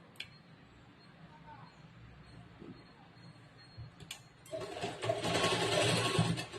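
A sewing machine stitching a blouse starts up after a few seconds of quiet handling and faint voice, then runs in a steady close whir for the final couple of seconds.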